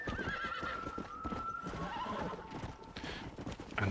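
A horse galloping and neighing in Red Dead Redemption, hoofbeats pounding steadily under a long drawn-out whinny, with faint background sounds.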